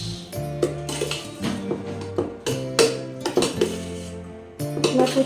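Cooked ragi puttu being mixed in a metal pot, with rapid, irregular clinks and scrapes of a spoon against the pot, loud and close, with no voices.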